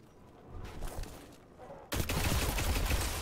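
The Loquitor IV auto rifle fires in Destiny 2, starting with scattered shots that give way to a loud, sustained burst of rapid automatic gunfire in the second half.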